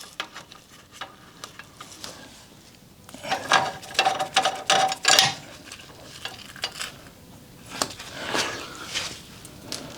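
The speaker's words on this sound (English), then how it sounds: "I can now just take these bottom bolts off" A ratchet works on the bottom bolts of a Rover P4's front suspension, producing bursts of quick metallic clicks and clanks close by with quieter pauses between them.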